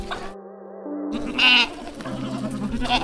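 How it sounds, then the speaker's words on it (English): A goat bleats in a short, wavering cry, loud and close, set against a bright, sparse background. "Look, here is a goat."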